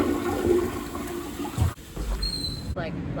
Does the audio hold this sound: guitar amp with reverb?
no